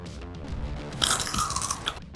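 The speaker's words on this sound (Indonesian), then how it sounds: "Aku akan menggigit semangka ini" Crisp bite into crunchy watermelon-shaped candy: a sharp close crunch followed by a burst of brittle crackling chews, loud and up front with no talking.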